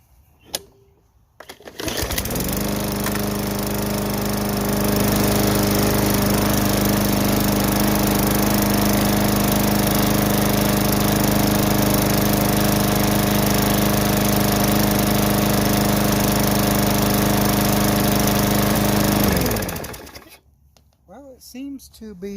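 A Craftsman lawn mower with a Briggs and Stratton 500e engine sputters to life and runs at a steady, loud drone for about seventeen seconds before winding down, with brief handling noises before and after.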